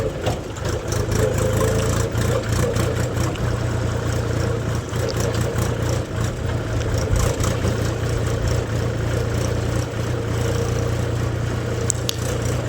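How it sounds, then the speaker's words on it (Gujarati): A tractor engine runs at a steady, loud rumble on a farm track, a constant low drone with a few faint clicks and rattles and no talking. "હવે અવાજ ઓછો આવશે કેમ કે ટ્રેક્ટર ચાલે છે"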